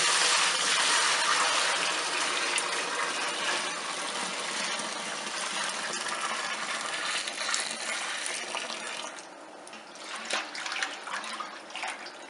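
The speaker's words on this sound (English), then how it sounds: "So I'm going to pour this stuff into this primary fermenter." Rum wash poured from a pot into a primary fermenter in a home kitchen: a loud, steady gushing splash of liquid that thins out toward the end into softer, uneven trickles and splashes.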